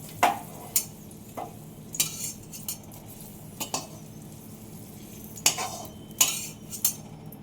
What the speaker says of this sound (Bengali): এইভাবে আলুগুলো ভেজে নিতে হবে